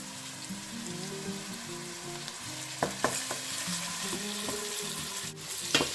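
Onions with a little salt are stirred while frying in a pan for tuna fried rice, producing a soft continuous sizzle with a few sharp utensil scrapes and taps near the middle and end.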